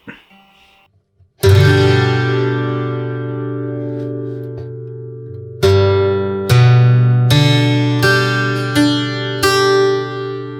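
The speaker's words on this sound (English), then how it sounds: "Only sound will be captured from the mic that is inside the guitar." Bright 12-string acoustic guitar strums, picked up only by a Fishman internal mic, ring out close and loud, a few separate chords struck one after another with long sustain, after a brief quiet start.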